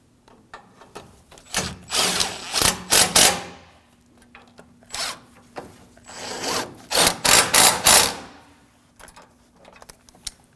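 A power tool snugs down the upper bracket hardware while an intercooler is replaced on a 2009-2014 Ford F-150 3.5L V6, in two close, loud runs of buzzing, stuttering bursts with brief pauses between them.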